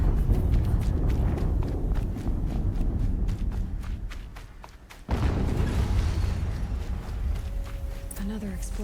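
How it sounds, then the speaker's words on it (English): Heavy explosions rumble in Horizon Zero Dawn on PC, a deep sustained roar with a sudden fresh blast midway, along with footsteps and running sounds. "Another explosion."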